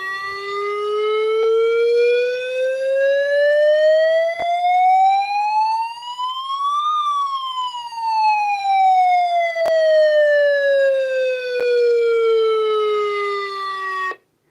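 A loud electronic siren sweeps slowly upward then back down in one long continuous tone, close and steady with no talking.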